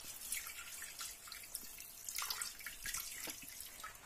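Lukewarm water runs from a kitchen tap for focaccia dough, a steady soft splashing stream with light dripping, fairly quiet and alone without talk.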